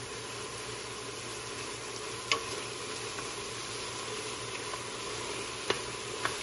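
Ground meat browning in a pan for lasagna gives a soft, steady sizzle at low volume, with a few faint clicks and scrapes of stirring and no talking.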